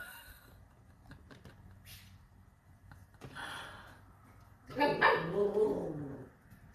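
Three small chihuahuas bark and yip in a sharp burst close by, growing louder toward the end, over quieter earlier yelps and faint room noise.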